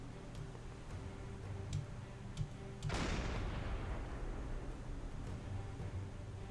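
A submarine deck gun fires once in Silent Hunter 5, a single sudden blast followed by a broad rushing decay, faint over steady ocean and engine rumble with faint ticking.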